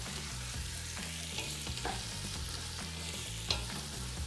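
Crushed tomatoes and vegetables for a fish soup sizzle and simmer in a pot, a close, steady frying hiss with bubbling pops and a few louder stirring clicks.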